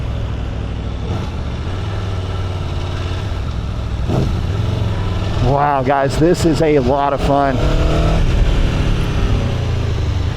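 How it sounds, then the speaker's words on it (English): Aprilia Tuono V4 motorcycle riding with a steady engine drone that surges into sharp rising revs through quick gear changes, loud and close under wind noise, with someone talking over it. "what a fun motorcycle to ride"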